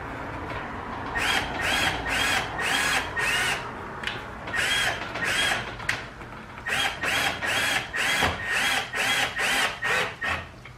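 A power drill drives a screw into a travel trailer's under-bed door in a run of short, even bursts, stopping and restarting with brief pauses, close and loud.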